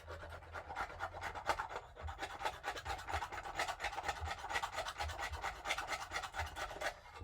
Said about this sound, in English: I'm going to shave some off using the back of the knife